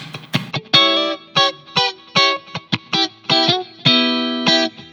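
Electric guitar strumming short, distorted funk triad chords over a dominant chord in a choppy rhythm, with brief gaps between stabs; loud and close, no voices.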